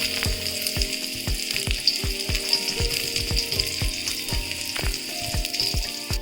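Garlic and sliced spring onion bottoms frying in a pan for vegetable fried rice make a steady sizzle, broken by a quick run of sharp scraping and knocking strokes from stirring, close up and without talk.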